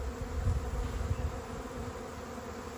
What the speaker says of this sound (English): the bees in the box are staying and not flying away